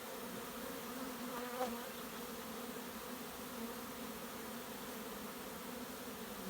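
Honeybees fly in and out of a hive entrance, making a steady, dense buzzing hum that holds at an even loudness throughout, close and continuous with no voices.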